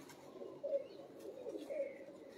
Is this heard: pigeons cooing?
yes